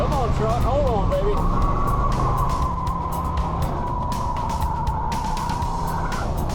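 A 1974 Ford F-100 truck runs on a race track, its engine droning steadily and loudly throughout with a rising whine, while someone talks excitedly over it.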